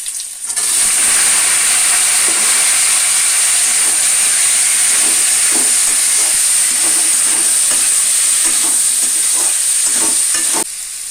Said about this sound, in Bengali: এর জন্য ডালটাকে প্রথমে প্রেসারে দিয়ে আমি সিদ্ধ করে নেব